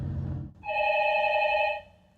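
A telephone bell rings at a naval explosive ordnance disposal unit with an urgent incoming call: one bright, sustained electronic ring, loud and close, following a low rumble and then cutting off.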